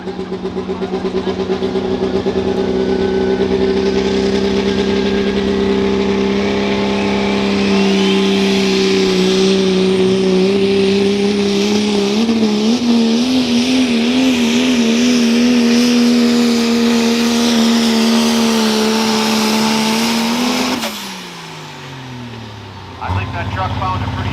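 A 1994 Dodge truck's engine roars steadily at full load during a truck pulling competition, with a wavering, rising pitch, then cuts out abruptly near the end before briefly firing again; an announcer's voice runs faintly underneath.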